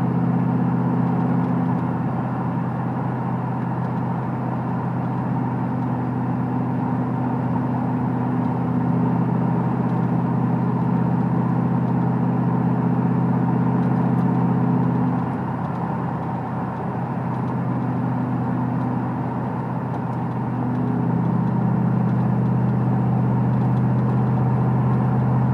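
A car drives along a road, heard from inside as a steady, loud low engine and road drone, with a slight easing and return of the hum midway and no voices.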